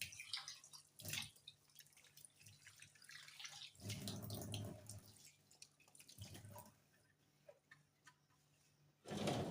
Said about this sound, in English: Place it just next to the sink. Try and wash my hands.